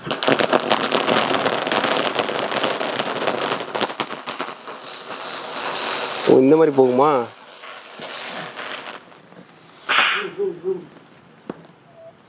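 An emu egg-laying novelty firecracker from Sivakasi goes off up close in a dense crackling burst, followed by a warbling whistle and a few short bright pops, with a voice speaking briefly during it.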